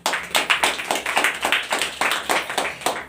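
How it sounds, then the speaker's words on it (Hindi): Congregation claps during a sermon in a rhythmic, evenly spaced beat of sharp claps close by, with little else heard. "अगर समझ गए हो तो ताली बजा दीजिए"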